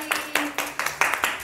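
A group claps together in a game with numbered picks, producing six sharp, evenly spaced bursts of clapping, fairly close and clear, with no talk over them.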